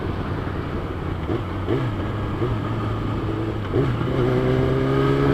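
A 2012 Kawasaki Ninja ZX10R engine humming steadily while riding in third gear, with a low, continuous drone, small pitch rises as the throttle opens, and wind rumble, moderately loud and close.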